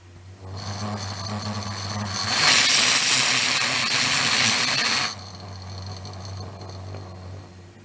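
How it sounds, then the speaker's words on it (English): Oxygen flowing through a mini torch regulator: a steady rushing hiss of gas swells loudly for a few seconds under a low mechanical hum, then drops back to a quieter background drone. "the difference in the sound of the oxygen when I crank this on"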